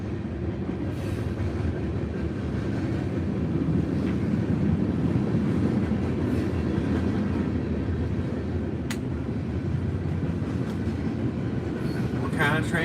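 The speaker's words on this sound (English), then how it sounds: "Just a generic freight train?" A generic freight train rumbles past in a broad, steady low roar with wind noise on the microphone, continuing unbroken for the whole stretch.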